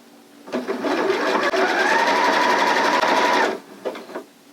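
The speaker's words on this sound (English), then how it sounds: "I'm just going to make sure that my seam allowance is still open and keep sewing" A sewing machine runs in one steady, continuous burst while stitching a seam on a girl's circle skirt, with a few short clicks and handling sounds before and after the stitching; close and fairly loud, with no talk.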